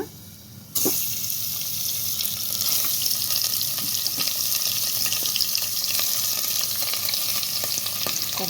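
Mutton is dropped into a pan of fried garlic, setting off a sudden loud sizzle that holds as a dense, steady hiss with small crackles throughout.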